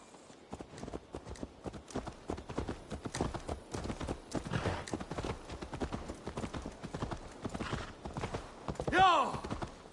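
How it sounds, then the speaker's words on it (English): Horse hooves clip-clopping in Assassin's Creed Valhalla, a quick steady run of close, sharp hoof strikes with a brief whinny near the end and faint game voices underneath. "Let's return the horse."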